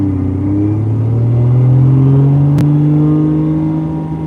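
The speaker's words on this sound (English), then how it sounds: "That thing sounds great. 610 horsepower, yep, big single turbo." Close, loud engine note from a 610 horsepower car with a big single turbo, rising smoothly in pitch as it revs then easing off, with a brief click midway and no voices.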